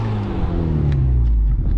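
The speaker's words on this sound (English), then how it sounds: "Give it a little exhaust rev, see if you guys can hear it." Honda Civic Type R FL5 sitting stationary, with a deep steady exhaust drone and low rumble held up close and loud, the pitch rising slightly as the engine is blipped.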